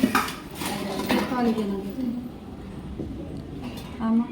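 Metal pots clatter and clank as they are handled in a home kitchen, several sharp ringing knocks in quick succession with a resonant tone, with people talking throughout.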